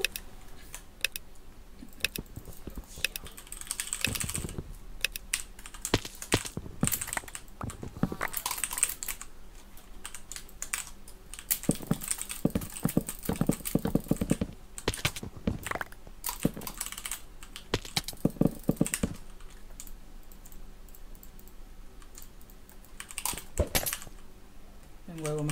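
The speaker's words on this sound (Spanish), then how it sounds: "que se escuchen solamente los clics y el sonido del teclado" Computer keyboard typing and mouse clicking during a Skywars game, with dense bursts of close, crisp key presses and clicks in irregular flurries and brief pauses throughout.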